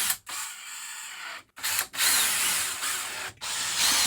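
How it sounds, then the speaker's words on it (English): A power driver sets screws while a Maxxair Maxxfan Deluxe roof fan is mounted on an RV, giving several close, loud whirring bursts separated by short pauses. "We're just gonna tack in these screws."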